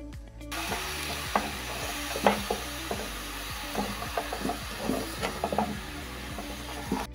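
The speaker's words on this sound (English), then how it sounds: "Add in the potatoes and fry for 5 minutes till golden." Minced meat and potatoes sizzling in oil in a pan, with soft crackling under repeated scraping and tapping from a stirring utensil, quiet and close with no voices.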